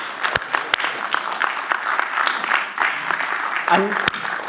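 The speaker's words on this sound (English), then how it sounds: "let's give a round of applause to the panel" An audience applauds a panel at an academic event, moderate clapping with a few sharp louder claps standing out, sustained for several seconds.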